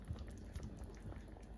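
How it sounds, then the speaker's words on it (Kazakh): Gravy bubbles in a pot at a quiet simmer, soft irregular pops and low burbling close by, with no voices. "Біздің подливамыз қайнап тұр."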